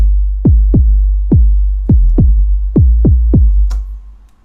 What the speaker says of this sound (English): It's just that really low subby kick that you hear.